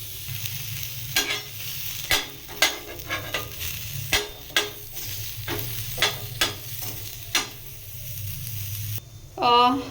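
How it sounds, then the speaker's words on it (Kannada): Green chillies fry in a teaspoon of oil in a pan, a steady close sizzle broken by a dozen sharp spatula scrapes and stirs; a short voice-like sound closes the clip. "ಹಸಿಮೆಣಸಿನ್ಕಾಯಿ, ಇದನ್ನು ಸ್ವಲ್ಪ ಬಾಡಿಸ್ಕೊಳ್ಳೋಣ"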